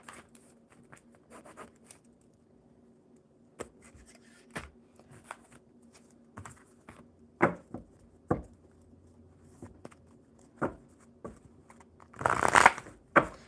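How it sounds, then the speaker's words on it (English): A deck of tarot cards is shuffled in a series of close, sharp riffles and taps spread across the clip, finishing in a louder burst of flapping cards, with no talking. "Let's shuffle these up super, super good."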